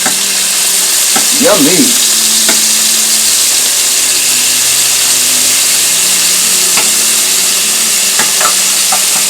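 Sliced pork tenderloin medallions sizzle loudly and steadily in a hot pan after being turned over, with brief clinks and scrapes from handling and a short spoken word over the hiss.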